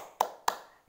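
Two crisp, close hand claps about a quarter-second apart, each a sharp slap with a short decay, from a children's clapping game in a preschool class.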